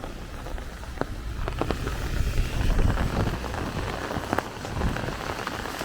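Heavy downpour during a thunderstorm squall line in Brooklyn, New York, with gusty wind: steady dense rain hiss on nearby surfaces, scattered sharper drop impacts and a swelling mid-section, no voices.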